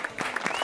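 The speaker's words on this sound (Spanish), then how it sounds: "Ve, y el aplauso para este cambio." An audience breaks into a brief burst of applause at a live show, the clapping fairly soft and quickly over.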